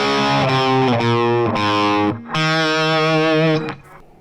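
Distorted electric guitar chugs out a rhythm part in steady chord stabs, with a short break near the middle before the riff resumes and rings out.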